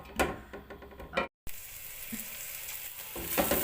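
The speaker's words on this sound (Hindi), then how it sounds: "तो अब मैं इसमें डालूंगी 1 अदद कटी हुई प्याज। ये डाल देती हूँ।" Chopped onion hits hot oil for beef pulao, bursting into a crackling sizzle after a brief silent gap, with stirring scrapes and a steady hiss that stays close and fairly quiet.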